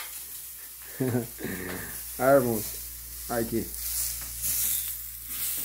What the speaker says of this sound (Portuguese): Fritando um hambúrguer, irmão.